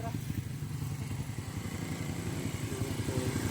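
Motorcycle engine running steadily on a rural provincial road, a mid-pitched putter with rhythmic pulsing, loaded with passengers, close and continuous throughout.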